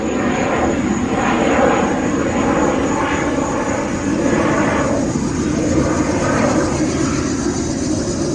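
An airplane flying overhead, a loud, steady engine drone that holds evenly throughout with no voices over it.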